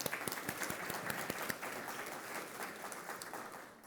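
Summit audience gives a steady, full round of applause lasting about four seconds, dense and even with a slight dip toward the end.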